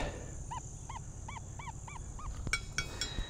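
A metal detector's signal tone comes through headphones as a rapid series of about seven short, bright, rising-and-falling chirps over a low background rumble, followed by a few sharper clicks.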